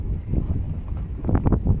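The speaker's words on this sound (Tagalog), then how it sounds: "Ito kay kusog ang hangin." Strong wind gusting outdoors in the countryside, a low rumbling buffeting against the microphone in uneven surges with no voices.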